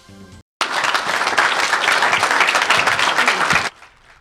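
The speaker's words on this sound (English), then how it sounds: "A round of applause and even tears as Samaritan's Purse doctor Kent Brantley" Loud, sustained applause from a large crowd, steady and dense for several seconds before cutting off abruptly.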